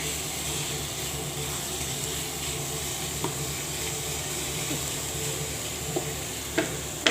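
Leafy greens (shak) fry in a pan, a steady soft sizzle running throughout with occasional scraping clicks of a spatula stirring, close and fairly quiet.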